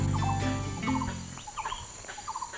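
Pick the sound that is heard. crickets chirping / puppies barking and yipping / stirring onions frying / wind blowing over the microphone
crickets chirping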